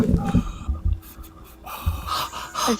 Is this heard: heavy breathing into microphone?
yes